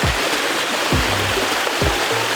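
Water running steadily at Kanhatti waterfall, trickling down through tree roots, a continuous close rushing wash with no talking.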